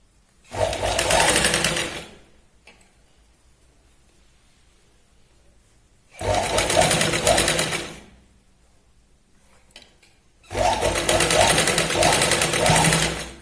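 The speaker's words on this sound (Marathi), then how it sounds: "इथे आपल्याला सरळ आधी एक दाब शिलाई लावायची, जेणेकरून कापड व्यवस्थित इथे दिसेल" A sewing machine runs a straight stitch through the lining of a Katori blouse in three close, steady bursts of about two seconds each, separated by quiet pauses.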